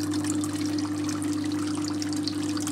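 Cold water running steadily from a geothermal cooling coil in a hydroponic strawberry setup, a constant trickling flow over a low pump-like hum, close and unbroken throughout.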